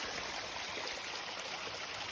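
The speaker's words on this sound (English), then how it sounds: "We're in a creek." A creek on a steep section of the Appalachian Trail in the White Mountains, flowing in a steady close rushing babble with no breaks, without voices.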